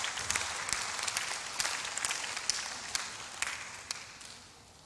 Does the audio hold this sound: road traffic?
no